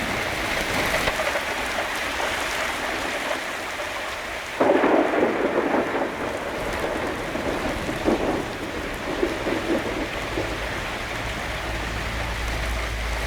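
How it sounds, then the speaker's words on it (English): Steady rain falls throughout, with a deep rumble of thunder rolling in partway through and fading into the continuing downpour; no voices. "Thunderstorm."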